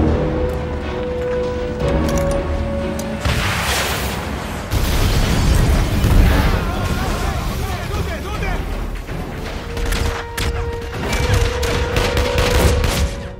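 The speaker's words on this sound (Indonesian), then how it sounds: "Hingga terjadi baku hantam dan baku tembak serta ledakan." Gunfire and explosions in a film fight scene: rapid bursts of shots, heavy booms and clattering mechanisms building in waves over a loud action soundtrack, with voices speaking over parts of it.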